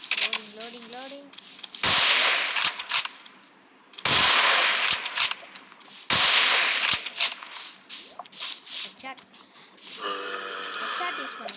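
Rapid bursts of video-game gunfire from the Minecraft Tech Guns mod, sharp loud volleys coming in clusters with short gaps, followed near the end by a steadier mechanical whir, with voice chatter mixed throughout.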